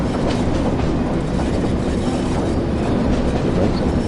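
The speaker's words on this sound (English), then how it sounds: "Or the train is too loud." Heavy British Rail freight train rumbling along the rails on the Northern Trans Pennine route in a Train Sim World game, a steady loud low roar with faint rhythmic wheel clatter and no talk.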